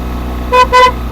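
Two quick, loud car horn toots in a row over a low engine rumble, close by, on a sharply winding mountain road.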